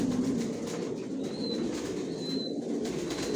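Johnson line racer pigeons coo softly inside a loft, low throaty calls repeating over a steady background hum, with a couple of faint high chirps.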